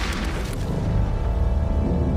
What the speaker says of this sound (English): the German battleship fires off another salvo.